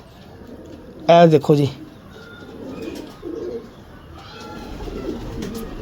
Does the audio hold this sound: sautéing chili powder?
no